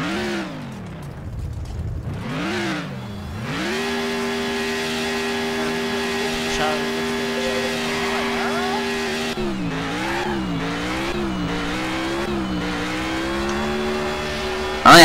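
A Garry's Mod drag-racing vehicle's engine revs up and down through gears in the game, a loud, continuous droning whine that rises, holds steady and then wavers in pitch, with no talk over it.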